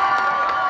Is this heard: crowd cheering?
yes